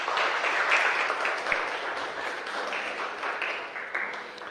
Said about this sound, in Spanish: Dale una ofrenda de palmas a Dios.